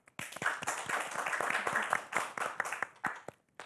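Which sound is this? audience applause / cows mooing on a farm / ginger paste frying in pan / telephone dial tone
audience applause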